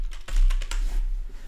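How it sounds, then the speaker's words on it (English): Fingers typing a message on a computer keyboard, a quick run of close, crisp key clicks in an uneven rhythm, heard alone. "by typing some message"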